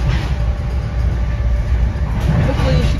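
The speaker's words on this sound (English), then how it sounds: "Of course we get like the old noisy train too, out of all trains to get." An old, noisy train rides along on the way to New York City, heard from on board as a steady, loud, low rumble with rattling carriage noise throughout.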